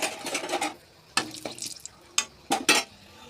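Three dried red chillies hit hot oil with a bay leaf, producing short, close bursts of sizzling and stirring clatter separated by brief quiet gaps.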